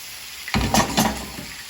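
Vegetables tossed and stirred in a hot frying pan for a tilapia dinner, a steady close sizzle with a few louder scraping stirs in the middle, no talking.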